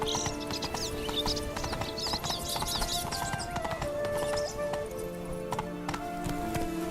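Hoofbeats of the horse Roach galloping in The Witcher 3, a steady rhythmic clip-clop running under music and ambient game sound throughout, with no break in the stride.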